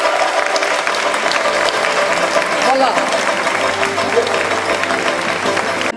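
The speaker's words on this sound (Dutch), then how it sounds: "Een applaus." Audience applause at a prize-giving ceremony for a young-and-old revue in a Ghent theatre, a dense, steady roar of clapping filling the hall throughout, with a brief spoken word over it.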